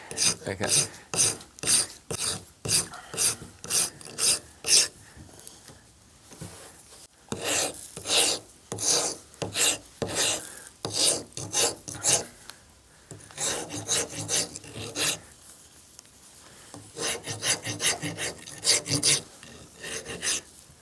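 Soapstone carving being filed and rasped by hand to round the forehead of a figure, with steady repeated strokes in bursts and brief pauses, close and fairly loud, no talking.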